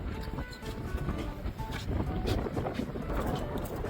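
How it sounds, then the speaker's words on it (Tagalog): Strong seaside wind roars steadily against the microphone, a dense, blustery rush with faint voices murmuring underneath. "Lakas ng hangin dito"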